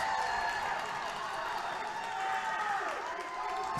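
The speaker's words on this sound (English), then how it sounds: "this Evergreen crowd is loud here and feeling it for their Evergreen team" A loud home crowd cheers and applauds for the Evergreen volleyball team during a high school match, DC Everest against Marshfield, a dense roar of cheering and clapping throughout, with a commentator speaking over it.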